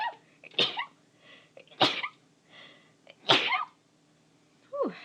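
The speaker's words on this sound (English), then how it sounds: "And I'm going to sneeze." Four sneezes from one person, the first three sharp and explosive at roughly even intervals and the last softer, each followed by a faint breathy tail, close and otherwise quiet.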